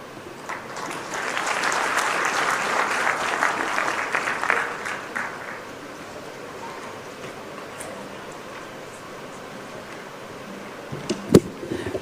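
Audience applause at an investment conference in Murang'a, a broad wash of many hands clapping for several seconds that gradually fades, followed by quieter room noise and a sharp knock near the end.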